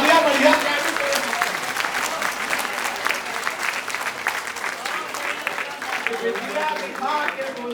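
Audience applause at a Hindi kavi sammelan comedy poetry recital, a steady crowd clapping with a voice talking over it throughout.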